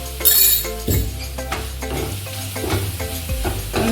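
Coriander powder fries in browned ginger garlic paste for a veg kappa biriyani: a steady close sizzle with stirring scrapes and occasional metallic clinks of a spoon against the pan, no talking.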